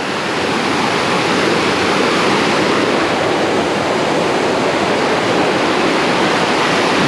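Water churns hard below Baby Falls near Tellico Plains, Tennessee, a loud unbroken roar of rushing falls that fills the space evenly from start to finish.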